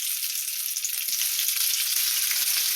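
Bacon fries in a pan with a steady, dense sizzle and crackle, close and continuous with no talking.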